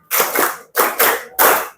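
A class claps hands in unison in a counted pattern, three loud, crisp bursts of group clapping close by, each separated by a short pause.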